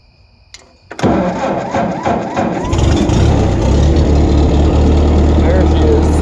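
An old tractor engine cranks briefly after quiet handling noises and fires into life with a sudden loud rise. It settles into a steady, close, low idle rumble.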